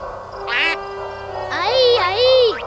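Cartoon duck from the Spanish-language Pocoyó series quacking in a bright, nasal, toy-like voice, a short quack followed by a longer run of rising and falling quacks, loud and close over a faint background hum.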